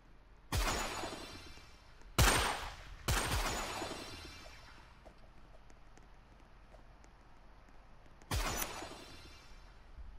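Gunfire in the online game Roblox: a few sharp, loud broadband shots, each ringing out and decaying, heard at about 0.5, 2.2, 3.1 and 8.3 seconds, with a quieter stretch between them.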